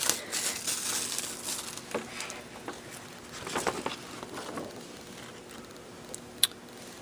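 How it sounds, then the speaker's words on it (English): Thin metal foil is peeled off a craft transfer folder and crinkled, producing soft, scattered crackles and rustles at close range, quiet overall with a small sharp tick near the end. "now we will take off the foil and just open up our transfer folder"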